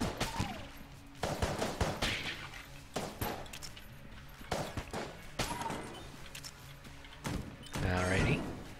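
Rapid gunfire in the video game Enter the Gungeon, bursts of quick repeated shots, fairly loud, mixed with other game sounds while someone talks over them.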